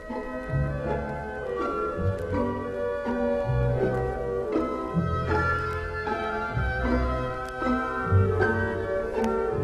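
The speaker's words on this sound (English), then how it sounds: "Brahms has supplied clarifying clues in the pizzicato strings and flutes" An orchestra plays a lyrical passage from a Brahms symphony, with pizzicato strings marking offbeats and flutes weaving a melody above sustained lower parts.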